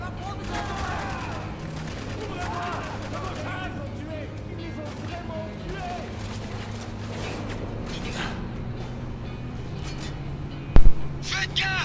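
Gunfire from an enemy shotgun in the video game Spec Ops: The Line, with steady battle noise and in-game voices throughout and a sharp, loud blast near the end.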